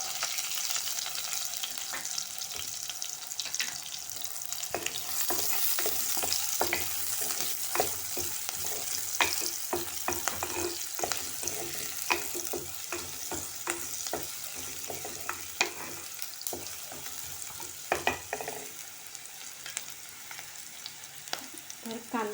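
Chopped green chillies, garlic, finely chopped curry leaves and onion sizzle steadily in a hot pan for banana flower bhaji, with frequent stirring scrapes and clinks over the continuous frying hiss.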